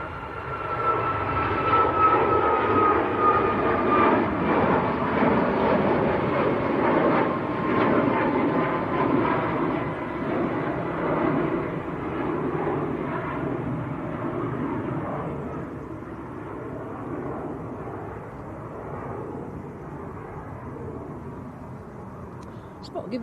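A TUI airliner bound for Banjul makes its takeoff roll at Manchester Airport. Heavy jet engine roar builds early, then slowly fades as the aircraft pulls away, with a voice talking over it.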